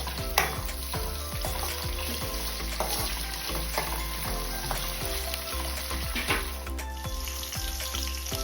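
Green chillies and curry leaves fry in hot oil for a Coorg-style mango gravy, a loud, steady sizzle with crackling pops and occasional stirring clinks, close and without talk.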